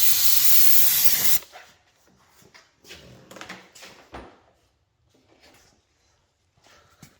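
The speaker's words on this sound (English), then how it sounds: "Just really hit it with the steam." Steam cleaner blasting a hissing spray of steam onto a car during cleaning, a loud continuous burst at first that cuts off, followed by quieter intermittent scrubbing and handling noises.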